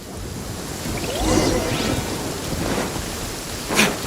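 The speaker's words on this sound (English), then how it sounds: "Uh-oh! Lightning storm!" A lightning storm in the video game Genshin Impact, with steady hissing rain and a low rumble of thunder throughout, plus a few brief zapping bolt sounds and a sharp crackle near the end.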